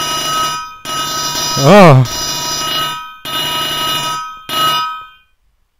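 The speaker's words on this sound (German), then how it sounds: "Ach Gott, da hat jemand angerufen. Was hast du nur für einen Klingelton?" A phone ringtone in the video game Minecraft sounds as about five loud, electronic bursts separated by short gaps, one of them warbling up and down, and the sequence ends in silence.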